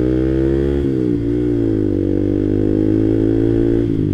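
A manual-clutch motorcycle engine hums loud and close, its pitch dipping and then rising steadily as it revs while pulling away.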